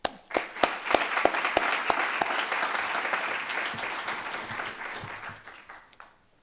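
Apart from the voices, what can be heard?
round of applause for staff and alumni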